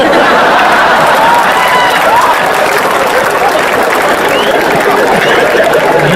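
Sustained applause from the audience at a Hindi comedy poetry show (hasya kavi sammelan), a dense steady clapping wash of many hands with crowd murmur mixed in, loud and continuous for the whole stretch.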